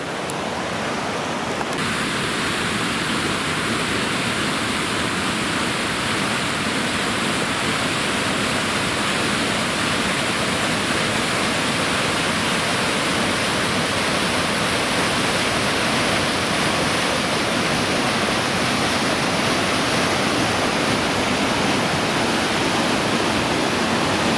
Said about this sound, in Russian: Справа несет свои воды река Крепкая